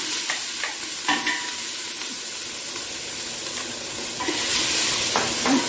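Two large onions frying in hot lard in a cocotte, stirred: a continuous close sizzle broken by several scraping stirs and clicks, growing louder and hissier toward the end.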